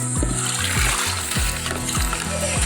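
Water splashing and sloshing as it is scooped from a river under a bridge for washing a motorcycle, a few close, quick splashes and pours with repeated gurgling bursts.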